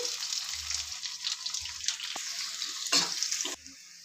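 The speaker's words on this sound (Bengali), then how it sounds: "কড়াই আমি তেল দিয়ে দিচ্ছি, অল্প একটু কালো জিরে দিয়ে দিচ্ছি, কেটে রাখা পেঁয়াজটা দিয়ে দিচ্ছি।" Chopped onion frying in oil with black cumin in a kadai, a steady broadband sizzle with faint clinks and a brief scrape, continuous and close throughout, stopping sharply near the end.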